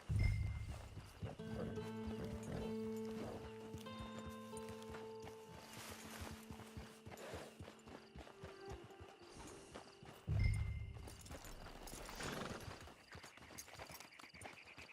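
Horses in Red Dead Redemption 2 walk with steady clip-clopping hooves, and a loud whinny breaks out at the start and again near the end, over a soft tonal game backdrop.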